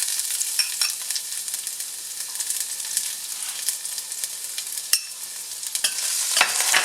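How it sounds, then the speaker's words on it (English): Garlic hits hot light olive oil with a bright, continuous sizzle, crackling and popping close by, with a few sharper spits along the way and no voices. "I like to cook with light olive oil, and we're going to add some garlic."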